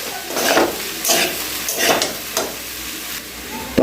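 Soaked, drained flattened rice (chira) being stirred in a frying pan for chirer polao, with several distinct scraping, rustling strokes at an uneven rhythm, close and fairly loud.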